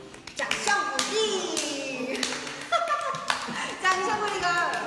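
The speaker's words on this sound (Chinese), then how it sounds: "我现在 需要 你们的掌声鼓励" Applause from an audience at a Chinese-language variety show, a few bursts of claps rising and falling over roughly five seconds, mixed with voices and laughter.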